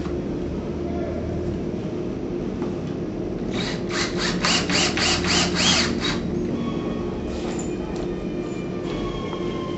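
A screw is driven to fix an L frame in place, a quick run of ratcheting clicks midway over a steady mechanical hum, with a voice talking throughout.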